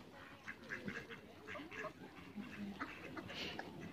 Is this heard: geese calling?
yes